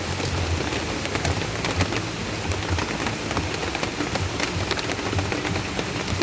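Heavy rain pours down on a mountain, a dense, continuous hiss of drops striking surfaces that holds steady from start to finish without any voices.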